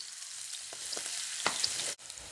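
Crushed garlic dropped into hot oil sizzles with a steady, close, bright hiss, with a few soft pops and stirring scrapes and no talking.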